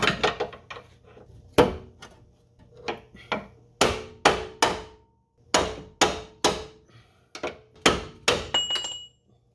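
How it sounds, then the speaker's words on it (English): Metal striking on a bolt being driven out of the front lower control arm of a 2007-2012 Ford Escape, Mercury Mariner or Mazda Tribute: a string of sharp, close hammer blows with ringing decay, arriving in irregular clusters. "Now we'll just finish taking this bolt the rest of the way out."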